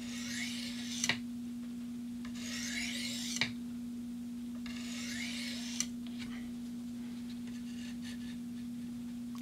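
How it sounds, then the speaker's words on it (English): Three short scraping strokes of a knife edge being honed on a steel to take off a burr, evenly spaced and fairly faint over a steady electrical hum, with no talk. "I got a burr on this side, so I'm going to hone it over here."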